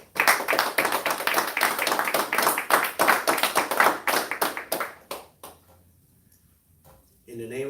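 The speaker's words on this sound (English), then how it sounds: "Let us give a round of applause to Brother Minister Rahim Ali." An audience at a temple service applauds for a minister, dense clapping that runs strong for about five seconds, then tapers to a few scattered claps and near silence before a voice returns.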